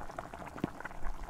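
A coconut mixture boiling in a pot while being stirred and heated down into coconut oil, with soft, scattered bubbling pops and gentle simmering at low volume.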